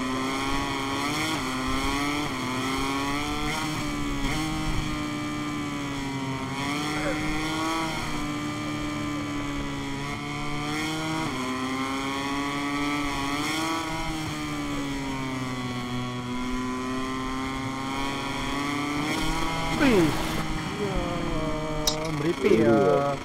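Racing motorcycle engines in MotoGP 23 drone steadily, revving up and down through gear changes with a loud, continuous buzzing whine, and engine pitch sweeps higher near the end.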